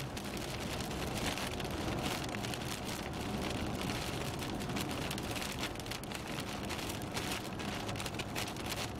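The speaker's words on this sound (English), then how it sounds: "Out of this rain." Steady rain falls hard and evenly during a storm chase in Woodward, a dense continuous hiss with no voices.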